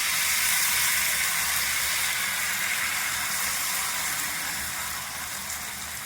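Ghavan rice batter hisses on a hot oiled griddle, a steady broad sizzle that stays loud and even throughout and eases slightly toward the end, with no voices over it.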